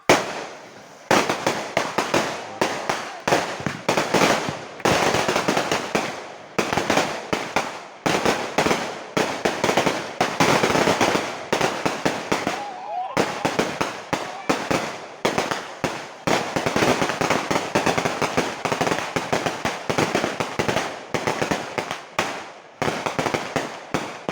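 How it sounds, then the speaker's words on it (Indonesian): Firecrackers crackle and bang continuously in dense, rapid bursts at a traditional balloon festival, loud and close, with brief pauses between volleys. "Menang rungokne mercon."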